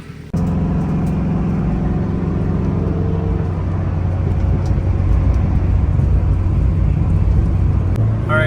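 An Acura RSX Type S driving, with a steady engine drone and road noise inside the cabin that builds slightly in the second half, with no voices.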